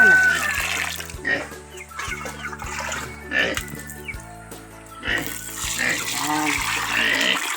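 Water runs and splashes nearby with a gurgling, uneven flow, while people talk over it and a low rhythmic thump repeats underneath.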